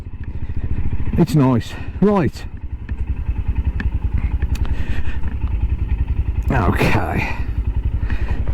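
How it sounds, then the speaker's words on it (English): A Royal Enfield Himalayan motorcycle's exhaust thumps in a steady low rumble while riding on a Good Friday ride, with a brief voice over it and wind and road noise around. "you just hear that exhaust, that little rumble behind you"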